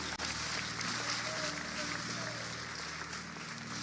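An audience at a church conference applauds in a dense, sustained patter of clapping, while someone speaks over it.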